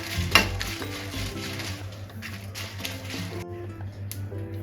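Byadgi red chillies fry in a pan with a soft steady sizzle, a spoon stirring and scraping against the metal now and then.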